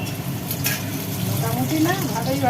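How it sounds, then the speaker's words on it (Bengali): Potatoes sizzle and crackle steadily in hot oil, with occasional stirring sounds, close and continuous. "আলু পটল চিংড়ির আলু ভাজা হচ্ছে"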